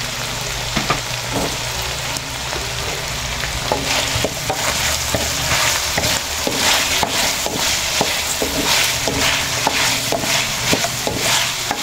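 Garlic and onion sauté in a hot pan with oil for a pork and string bean adobo, a loud steady sizzle broken by repeated scraping stirs, close and continuous.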